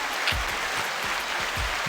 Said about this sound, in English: always clap it up for us